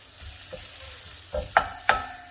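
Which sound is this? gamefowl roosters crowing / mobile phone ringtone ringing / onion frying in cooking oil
onion frying in cooking oil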